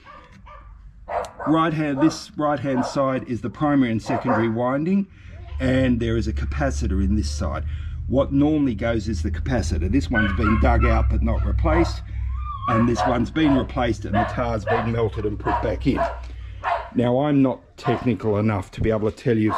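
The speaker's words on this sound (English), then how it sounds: "my dogs have decided they've got to bark at next door neighbour" Pet dogs barking at a next-door neighbour in the background, yips and barks mixed beneath someone talking at length close to the microphone.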